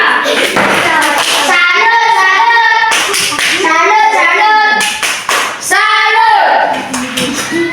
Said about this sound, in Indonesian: Oke, tepuk salut dulu untuk kelompok 2.